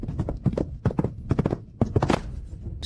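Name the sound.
horse galloping hooves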